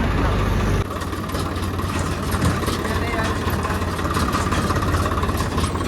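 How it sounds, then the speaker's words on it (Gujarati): A tractor engine idles nearby with a steady low rumbling drone, and voices can be heard over it. "ટ્રેક્ટર આવી ગયું છે મિત્રો."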